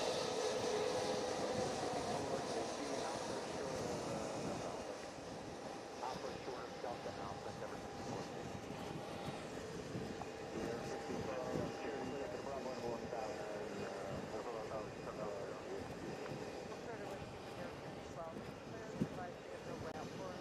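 A jet airliner passes at JFK International Airport, its broad engine roar steady and fairly loud for the whole stretch, easing slightly after the first few seconds, with people talking over it.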